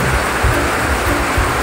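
Heavy rain falls on a construction site, a loud, dense, continuous wash of patter with no voices.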